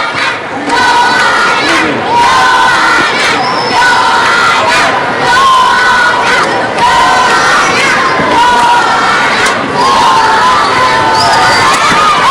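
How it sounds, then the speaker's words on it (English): A crowd of school kids cheers and shouts steadily and loudly at a 2006 World Championship women's singles badminton match, a dense, continuous roar with brief swells of yelling. "the crowd of school kids are right behind her, literally and metaphorically"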